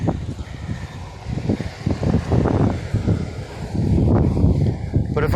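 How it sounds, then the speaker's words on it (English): Strong wind buffets the microphone outdoors in loud, gusty rumbling surges that build toward the end, mixed with someone talking. "the wind."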